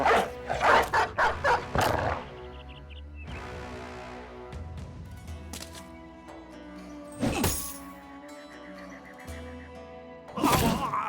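War dogs in the video game Battle Brothers bark in a rapid burst of sharp yelps at the start, followed by combat clatter, swishes and impacts with more bursts later.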